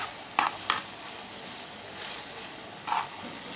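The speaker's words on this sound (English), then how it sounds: "Toss everything together with the minced meat for around a minute until the spring onion is soft." Minced beef filling with spring onion being stirred and tossed in a hot pan for beef samosas, a steady sizzle with a few sharp scraping clacks of the spoon against the pan, close up and without talk.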